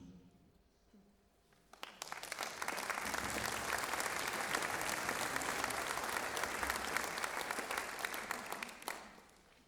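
A concert audience bursts into applause after a wind band performs the Peer Gynt Suite, starting after a quiet moment and holding as loud, dense, sustained clapping for several seconds.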